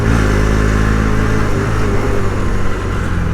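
A KTM enduro motorcycle engine runs loud and close, revving steadily with a dense, throaty roar and rattling mechanical clatter throughout, on an off-road ride near Pharping.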